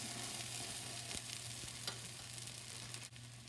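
A keto grilled cheese sandwich in butter cooks in a pan, giving a steady close sizzle and crackle of frying that holds evenly throughout, with no talking.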